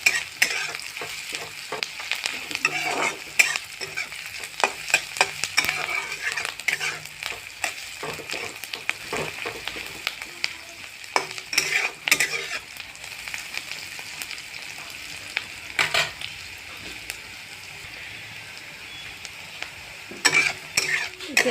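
Onions fry in a pan for an Assamese chicken curry, giving a steady close sizzle broken by repeated scraping and clinking stirs from a spoon against the pan.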